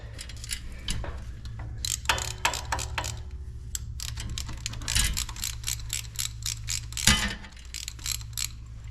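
Bolts on the water pump of a John Deere 355 are worked back and forth, giving a close run of sharp metallic clicks and ratcheting ticks in an irregular rhythm, with no talk.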